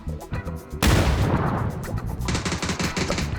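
Loud gunfire in the battle royale video game PUBG erupts in rapid bursts, a dense automatic volley followed by repeated sharp shots, with faint clicks just before.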